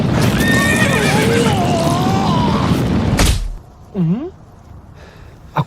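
A horse in an animated scene whinnies loudly amid dense rumbling noise and hoof clatter, followed by a heavy thud and then a short, rising cry that is fainter.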